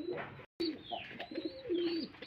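Pigeons coo repeatedly at close range, low rolling calls overlapping one another with a brief dropout partway through, at a pigeon seller's loft in Charghat, Rajshahi.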